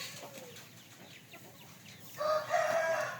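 An Aseel rooster on a farm lets out one loud, clear crow in the last second, after quieter scattered bird chirps in the background.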